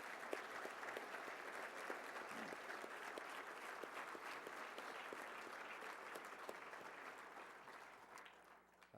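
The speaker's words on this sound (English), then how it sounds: "I ask you to join me again in a round of applause, thanking them very much for their great contribution." An audience at the 2011 Mitchell Institute Gala breaks into sustained, dense applause that holds steady for several seconds before tapering off near the end.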